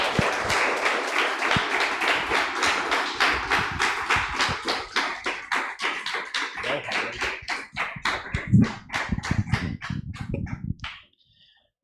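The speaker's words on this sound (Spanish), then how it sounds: "Dale un fuerte aplauso al Señor." A church congregation claps together in a strong, rhythmic, near-unison beat that carries on for about ten seconds, then thins out and stops abruptly.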